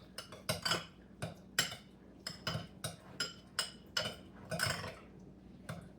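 A utensil stirs an egg, vanilla and cinnamon mixture in a bowl, giving about a dozen quick clinks and scrapes against the sides in an uneven rhythm, close and alone without any talk.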